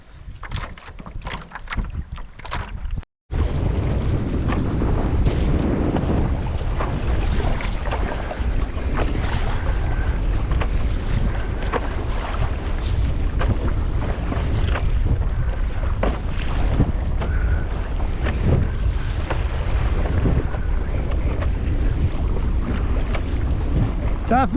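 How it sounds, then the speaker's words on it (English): Steady stiff headwind roars and buffets around a small sailboat in the Everglades Challenge near Indian Key Pass, a continuous loud wind rush with water sloshing beneath, preceded by a few seconds of quieter rustling. "Got a pretty stiff headwind coming into Indian Key Pass here"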